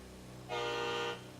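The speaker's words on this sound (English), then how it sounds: "Alright, there's the honk." A single sustained car horn honk at qualifying in Coober Pedy, loud and steady for about half a second, over a low idling rumble.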